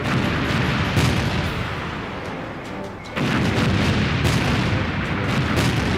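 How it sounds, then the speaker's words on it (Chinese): Long-range artillery strikes land during a military exercise as a dense, loud roar of distant blasts and rumbling booms, with a brief lull midway before the heavy barrage resumes. "我们现在看到的烟火和炸点显示，是由空军山鹰旅扮演的蓝军正在对红军实施远程火力打击"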